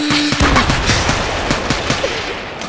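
Rapid automatic gunfire rattles in a Minecraft-style survival games match with guns. The bursts are loud and close, with a short tone at the start and no talking.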